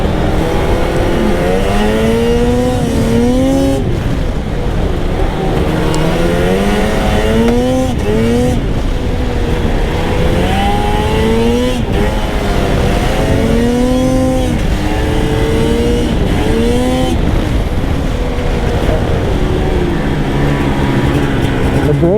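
A 146-inch snowmobile engine revving up and down continuously as the sled rides through corners, loud and close throughout, with pitch rising and falling in repeated surges.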